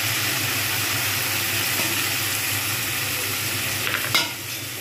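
Ginger-garlic and coriander-mint paste fries in a pan over medium-high flame, a steady close sizzle and hiss with scraping stir strokes and a brief louder clatter near the end.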